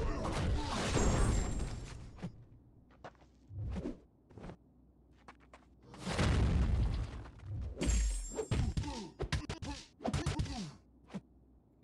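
A Marvel Contest of Champions fight explosion, with sharp bursts of impact and a booming blast amid clattering hits and scattered quieter gaps, while a person speaks in places.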